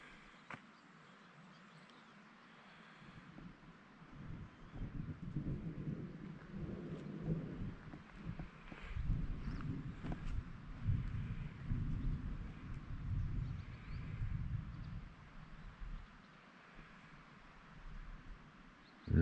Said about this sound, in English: there's a little bit of thunder going on over there somewhere.